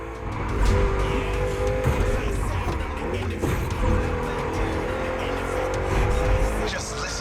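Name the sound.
V8 car engine in video game The Crew Motorfest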